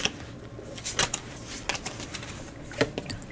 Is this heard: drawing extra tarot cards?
yes